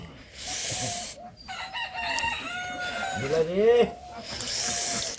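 Chickens in a village yard, with a rooster crowing and hens clucking in short bursts at moderate distance, mixed with other farmyard sounds.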